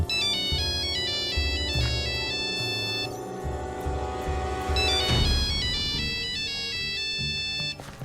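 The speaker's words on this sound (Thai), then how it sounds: "แต่แล้วก็มีเสียงโทรศัพท์มือถือของผมดังขึ้น" A mobile phone ringtone plays as a sound effect in a Minecraft horror scene, a loud repeating electronic melody of bright tones over a low backing beat, with no voices.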